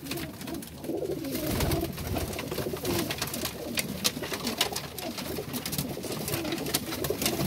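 Domestic pigeons coo steadily amid a busy, noisy background, with soft repeated low calls running throughout the recording.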